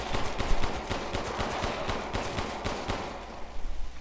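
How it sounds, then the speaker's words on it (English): Pistol fire in Resident Evil Village during a stronghold boss fight: a dense, steady run of sharp shots and impacts keeps going throughout, with no talking. "Usually I pop in 6 shots and then try to finish them off with the pistol."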